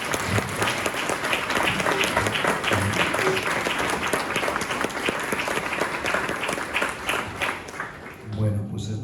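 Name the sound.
audience applause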